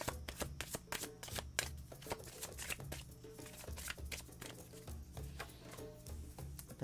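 A deck of reading cards being shuffled, a rapid run of crisp riffling flutters and soft taps repeating close up with no talk.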